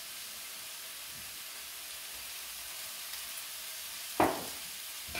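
Chopped onion sweating in a pan for black pepper beef and green beans, giving a steady soft sizzle throughout, with a brief louder clatter or stir near the end.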